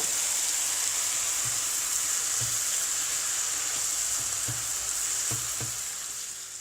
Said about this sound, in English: you will be able to hear a more intense sizzling noise